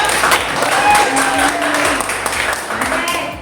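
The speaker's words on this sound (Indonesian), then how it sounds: "Tepuk tangannya dulu dong" An audience at a school teacher-training dissemination session claps steadily in a dense, fairly loud burst of applause, with a voice faintly mixed underneath.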